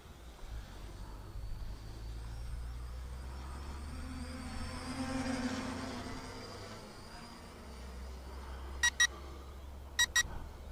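A small M66 WiFi drone, flown with a foldable-screen controller, sounds its low-battery warning: two quick double-beep bursts about a second apart near the end, cutting clearly through a steady outdoor whir and wind rumble.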